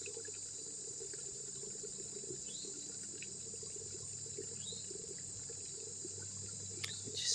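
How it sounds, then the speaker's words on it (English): Water running down a mountainside from a mountain cistern, a steady faint trickling wash that continues throughout, with insect-like chirps and a few small distant sounds over it and no talking. "still water rolling down the side of the mountain here from this mountain cistern"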